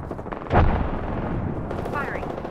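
Gunfire in the Apex Legends battle royale shooter: a sharp loud shot burst near the start, then a steady rattle of weapon fire and combat noise with a brief whistling effect, voices mixed in.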